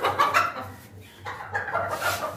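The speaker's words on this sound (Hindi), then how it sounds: "इनके पास चूजे हैं, देसी हैं माशाल्लाह" Desi hens and their chicks cluck and peep close by in a lively, continuous run of calls with no talking over them.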